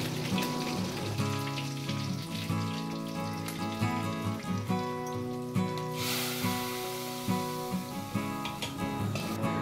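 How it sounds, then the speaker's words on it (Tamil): Mustard seeds and urad dal tempering in hot oil for sambar give a steady close sizzle dotted with small pops and crackles. The frying runs on with no talking. "3 ஸ்பூன் எண்ணெய் விட்டுக்கிட்டு கடுகு உளுத்தம்பருப்பு போட்டு தாளிச்சிக்கிட்டு அதுக்கப்புறம் கருவேப்பிலை மிளகாய் சேர்த்து தாளிச்சிக்கணும்."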